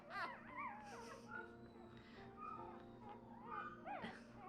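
High wavering whimpers from a dark-coated F1b Mini Goldendoodle puppy with no white markings, repeated in short rising and falling cries close by, with faint voices in the background.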